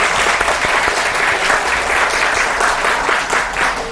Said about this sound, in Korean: 지금까지 강연을 잘 들려주신 우리 사장님께 다시 한번 뜨거운 박수 부탁드립니다